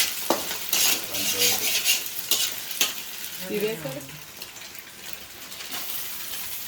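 Boiled chicken and onions being stir-fried for restaurant-style chicken fried rice, with a steady close sizzle and repeated scraping stirs of a spatula in the pan, with no talk over it.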